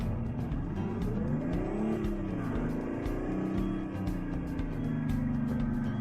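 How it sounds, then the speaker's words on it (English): Mack Type R truck engine in American Truck Simulator on icy roads revving up and down in a loud, close, continuous growl with rising and falling pitch, alone without talk. "this truck sounds angry now"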